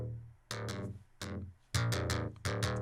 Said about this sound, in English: I am running this through Haas effect, which really is just widening this bass